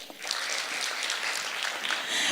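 Conference audience applauding, a steady wash of many hands clapping at moderate distance that holds evenly throughout with no voices over it.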